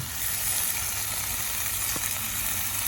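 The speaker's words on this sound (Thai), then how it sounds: "พื่วไปกับพริกแกงลง่ที่เราหั่นไว้เรียบร้อยแล้ว แล้วก็ใส่ลงไปเลย ลงไปผัดนะครับ" Red curry paste and dried chilies stir-frying in a hot pan for a Thai basil pork dish, giving a steady, even sizzle throughout with no voices.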